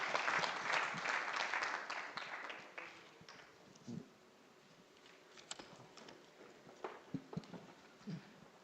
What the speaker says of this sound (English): Round of applause to all the panelists, ladies and gentlemen,